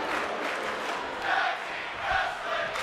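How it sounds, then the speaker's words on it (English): Arena crowd chanting during a tag team match in the WWE 2K24 wrestling video game, a broad roar of many voices that swells in rhythmic surges, moderately loud and steady. "As the crowd chants for tag team wrestling, Tonga Loa just survived"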